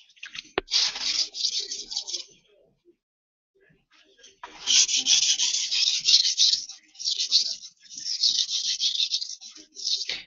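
A knife tip being sharpened, with steady raspy strokes rubbing against a stone: a short burst, a pause of near silence, then a longer run of repeated scraping passes close to the listener.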